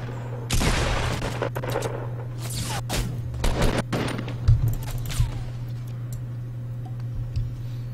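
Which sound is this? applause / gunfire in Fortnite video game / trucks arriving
gunfire in Fortnite video game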